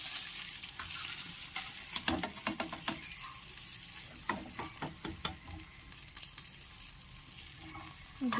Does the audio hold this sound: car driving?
no